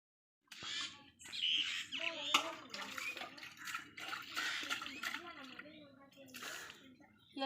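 A clay pot is washed with water before tempering horse gram curry: close, repeated sloshing, scrubbing and splashing bursts continue steadily for several seconds after a brief silence.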